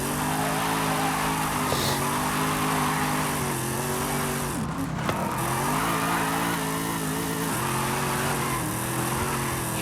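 A Corvette Z06 drifts in Forza Horizon 5, its engine droning steadily with pitch dips and rises as it slides through corners, loud and continuous with a brief squeal of tires midway.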